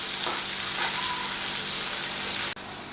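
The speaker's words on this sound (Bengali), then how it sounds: "তো যতক্ষণ না ব্রাউন কালার হচ্ছে ততক্ষণ আমি পেঁয়াজটাকে ভেজে নিচ্ছি।" Onions frying in a pan toward brown for paneer bhurji, a dense, loud, continuous sizzle close by that cuts off sharply near the end.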